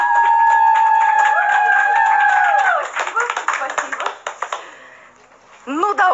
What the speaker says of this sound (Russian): Искупайте в аплодисментах!